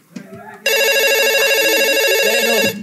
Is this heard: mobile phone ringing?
yes